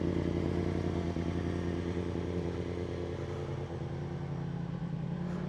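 BMW S1000RR sport motorcycle with an Akrapovic exhaust warming up gently, a steady rumbling idle with a throaty, slightly clattering tone holding continuously, close by and without talk.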